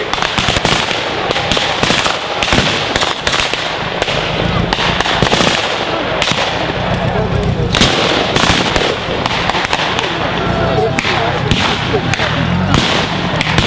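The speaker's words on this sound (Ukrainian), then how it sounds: "розпочинає артобстріл німецьких укріплень" Artillery barrage in a battle reenactment staged against German fortifications in Cherkasy, a dense, continuous crackle of blasts and rapid pops with heavy thumps and no pause, while a commentator talks over it.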